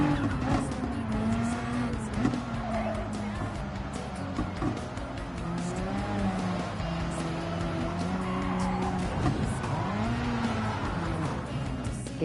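A car in the racing game Gran Turismo 7 losing grip and spinning out, its engine droning and wavering steadily with tire squeal and skidding, loud and continuous throughout with no talk.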